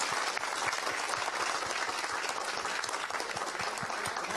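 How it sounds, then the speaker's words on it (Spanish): Steady applause from an audience at a youth award recognition event, dense and sustained throughout with no voices standing out. "¡Aplausos!"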